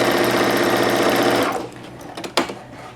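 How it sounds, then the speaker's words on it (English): A sewing machine stitches bias tape binding along a seam edge, running loud and steady with a fast even buzz for about a second and a half, then stopping, followed by a few soft handling clicks and rustles. "I'm going to be stitching in about 1/8 of an inch from the edge"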